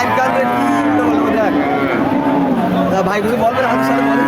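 A cow moos loudly and at length nearby at a cattle market, its low drawn-out call wavering, while people talk in the background.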